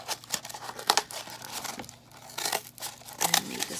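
Scissors cutting a circle from tough cardboard for a paper dahlia: crunchy, crinkling snips and tearing sounds in uneven bursts, close up with no talking.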